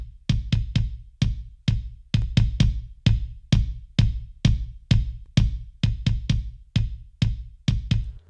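A kick drum run through SSL channel strip compression with a scoop around 750 Hz plays a steady pattern of punchy, tight low thumps, alone and with no voices.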